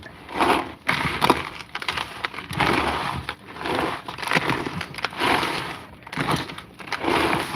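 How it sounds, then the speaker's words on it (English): Crunching, squelching sounds of stuffing mixed by hand come in repeated bursts, loud and close, with no talk over them. "Hear that crunch?"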